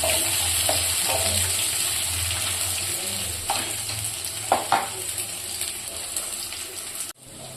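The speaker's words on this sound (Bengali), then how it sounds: "2টো বড় বড় রসুন কুচি এখানে দিলাম। তারপরে একটু এটা নাড়াচাড়া করে নেব" Chopped garlic sizzles steadily in a hot pan for a mango pickle, with a broad frying hiss and a few scraping stir strokes near the middle before the sound cuts off at the end.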